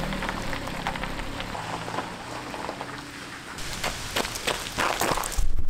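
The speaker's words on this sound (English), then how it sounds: "the rain is starting to pick up once again" Rain falling and picking up in strength, heard as a steady, fairly loud broadband patter with scattered sharper drop hits throughout, growing denser toward the end.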